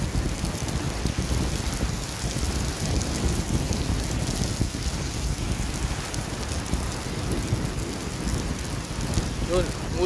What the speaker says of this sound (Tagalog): Lakas pa naman ang ulan.